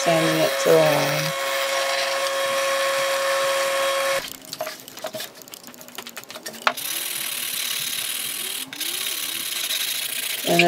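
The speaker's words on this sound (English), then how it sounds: "Sanding it to the line." A power sander whines steadily and changes pitch now and then, with rattling and scraping as it sands a wooden shelf board to a line.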